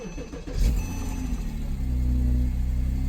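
Porsche 911 switched on, with a brief starter whir followed by the engine catching and settling into a steady, loud idle hum close by.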